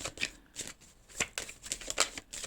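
Tarot cards being shuffled and drawn up close, with quick papery riffles and flicks in irregular bursts, soft to moderate and alone.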